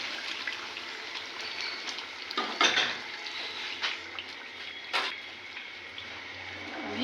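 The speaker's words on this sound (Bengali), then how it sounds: "আমি সব মাংস উঠিয়ে নিব।" Cooked roast meat is scooped from a cooking pot into a bowl, with a ladle clinking and scraping against metal several times over a steady background hiss.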